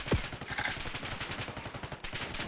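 Automatic gunfire in Black Ops 6 rattles in a rapid, steady burst across the whole moment, fairly quiet and continuous with no talking over it.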